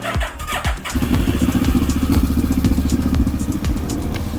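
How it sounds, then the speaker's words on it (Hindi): A CF Moto GT 650 motorcycle engine catches after a few thumps and settles into a loud, steady, rumbling idle close by. "ये देखें, बाइक मैंने स्टार्ट किया है"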